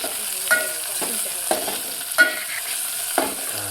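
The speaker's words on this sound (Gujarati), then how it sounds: "આપણે વઘાર કર્યો એટલે મરચાં બળી જાય રહી" Onion and green chilies sizzle in hot tempering oil for Maggi noodles, a steady close frying hiss broken by four sharp scrapes and clacks of a spoon stirring against the pan, with no voices.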